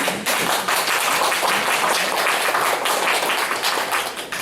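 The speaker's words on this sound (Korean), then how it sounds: "다시 한번 박수로" Church congregation applauding Pastor Oh Chang-ha during a service, a dense, steady wash of many hands clapping at close range, sustained evenly without talk.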